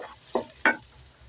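Onions sizzle lightly in a pot for mutton stew, a soft, steady frying hiss broken by two short scraping stirs.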